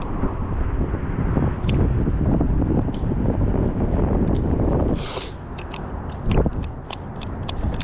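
Wind buffeting a microphone outdoors on a cold fishing spot, a loud continuous rumbling roar with brief easing, plus small clicks and handling noises.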